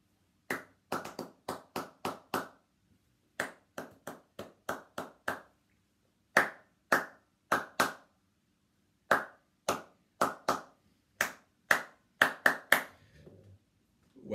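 Crisp, close hand claps beat out a rhythm in short grouped phrases separated by brief pauses, with nothing else heard between them during a virtual singing session.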